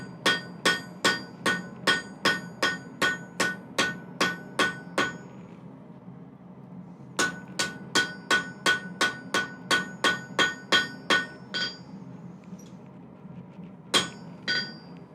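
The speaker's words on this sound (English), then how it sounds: "Having good control of your hammer is a very important aspect of what we do here." Sharp, evenly spaced hammer blows ring out in a workshop, first a fast run of strikes, then a pause, then a second run, ending with a couple of isolated hits.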